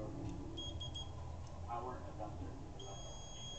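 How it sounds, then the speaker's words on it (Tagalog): Electronic beeping while an Epson L120 printer's fuse is tested: two short high tones, then a longer steady beep near the end, over a low background hum and murmur. "nag-beep siya, pwede pa siya."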